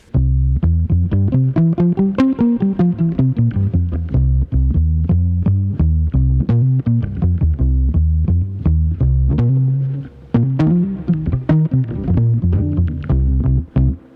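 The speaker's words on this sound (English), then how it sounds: "This is the Meris Enzo set to an octave down, just as a dry monophonic pitch shifter." A low, thick bowed violin line plays a slow melody through a Meris Enzo set as a dry monophonic octave-down pitch shifter, its notes doubled an octave below for a heavy, dry synthetic tone, steady and close.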